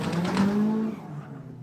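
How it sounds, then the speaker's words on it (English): Pro Light drift cars in a chase at an Ultimate Drifting Challenge qualifying round, one an SR20-powered S13, with a loud engine and tire tone that rises in pitch and then fades. "Man, those cars sound so crazy."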